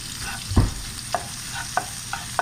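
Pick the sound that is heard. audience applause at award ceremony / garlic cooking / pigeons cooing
garlic cooking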